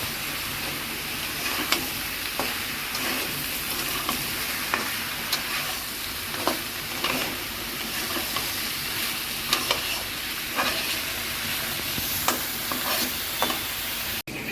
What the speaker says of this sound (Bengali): পটল ভাজি হচ্ছে গো।